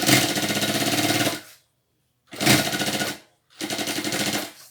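Sewing machine stitching a backstitch, with three close, loud bursts of rapid rattling stitches separated by short pauses, no talk over them.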